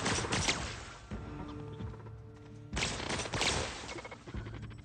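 Gunfire in The Outer Worlds video game, dense bursts of rapid shots near the start and again around the three-second mark, loud and close over a steady game soundscape.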